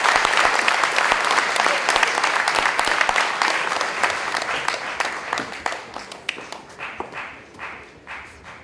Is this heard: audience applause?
yes